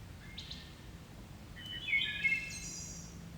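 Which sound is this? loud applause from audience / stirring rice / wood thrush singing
wood thrush singing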